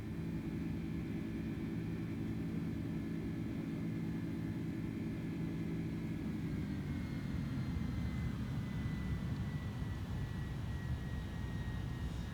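Airbus A310 jet engines in Microsoft Flight Simulator give a continuous low roar at low power on a landing approach, steady and unbroken, with a faint whine drifting slightly in pitch.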